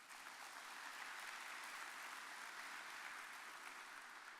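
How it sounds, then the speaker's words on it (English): Faint, distant applause from a convention audience rolls on steadily throughout, a soft even patter of many hands with no speech over it. "Please give them an applause."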